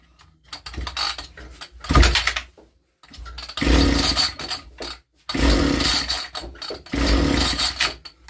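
JCB M25 petrol strimmer engine running on choke after a cold start, loud bursts of buzzing two-stroke revs separated by short near-silent gaps, close by.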